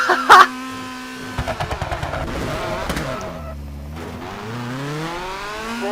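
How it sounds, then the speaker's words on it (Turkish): Rally car in the game WRC 4 sliding through a drift, with a rapid burst of engine pops followed by a whining engine that sweeps up and down as the tires slip, and brief talk at the start. "drift olayı olacak da çok pis kayıyor"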